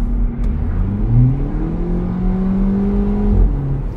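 A VW Polo 6 GTI accelerates as the driver suddenly floors it from about 2000 rpm in fourth gear; the engine note climbs after a kickdown, rising steadily in pitch and loudness inside the cabin.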